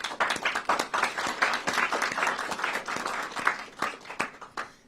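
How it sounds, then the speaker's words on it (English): A room of people at a Chicago city government COVID-19 briefing gives a round of applause, dense steady clapping from many hands lasting several seconds before tapering off, heard on its own without talk. "So I think Commissioner Owen deserves a round of applause."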